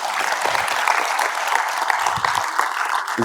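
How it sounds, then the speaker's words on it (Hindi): Audience applause fills a motivational exam-preparation class, a dense, steady wash of many hands clapping at close range that holds evenly for a few seconds with no speech over it. "ताली बजा दो"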